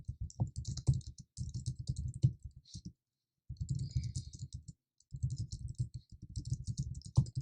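Steady bursts of typing on a computer keyboard, close and clear, in several runs separated by brief pauses, with no talking.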